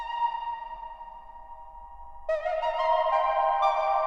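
A sustained synthesizer tone with rich harmonics runs through the Elektron Tonverk reverb, damped to darken the tail; partway through a new, brighter note enters over the lingering wash, steady and close with no voices.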